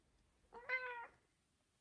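A Maine Coon cat gives a single short, soft meow, faint and alone against a quiet room.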